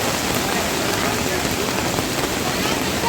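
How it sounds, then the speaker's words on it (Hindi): Heavy monsoon rain falling in Nakhatrana, Gujarat, a dense, steady hiss and patter of downpour that stays loud and unbroken throughout, with no other sounds standing out. "नखत्राना में भारी बारिश दर्ज की गई है"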